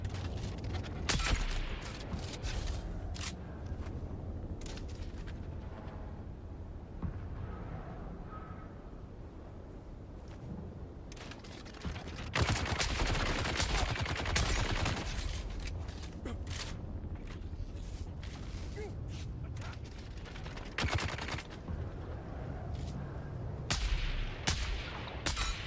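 Sci-fi gunfire in the video game Dune Awakening, with bursts of rapid shots and booming impacts over a constant rumbling background, some stretches louder than others, while players talk over it.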